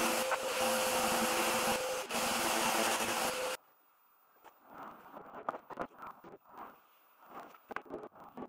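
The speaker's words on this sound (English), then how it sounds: "I gave the panels a quick sand as it's easier doing it before it's all glued together." Laser-cut wooden panels being sanded: a loud, steady abrasive roar for about three and a half seconds, then quieter, uneven scratchy rubbing strokes close by.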